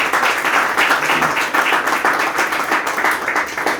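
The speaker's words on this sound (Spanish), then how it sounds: "Démosle una fuerte ofrenda de palmas al Señor" A church congregation claps together at a pastor's call, a dense, loud, sustained round of applause filling the room for several seconds.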